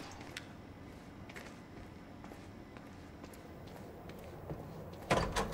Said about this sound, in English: I'll open up the door for you.